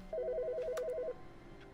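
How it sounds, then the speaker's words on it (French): A desk telephone in The Stanley Parable Ultra Deluxe gives one rapid warbling electronic ring of about a second, clear and close in an otherwise quiet room. "Ah, le téléphone sonne."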